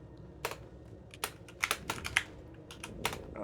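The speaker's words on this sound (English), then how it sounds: "Let me use the keyboard." Computer keyboard keys clicking in short irregular bursts of separate keystrokes, close and fairly crisp, during PC play of Little Nightmares II, with no talking.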